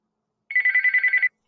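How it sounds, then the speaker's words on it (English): A telephone bell rings once in an audio drama, a single burst of rapid trilling strikes lasting under a second, loud and isolated against silence. "As soon as she does, the phone rings again."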